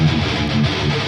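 A modern metal mix with the low end boosted around 80 Hz plays as a dense, heavy wall of distorted guitars with a thick bass weight, loud and continuous.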